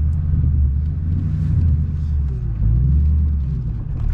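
A 2004 Ford Mustang GT Bullitt V8 idles with a deep, steady rumble that swells slightly, heard up close from inside the car, with no clear gear clunk or speech.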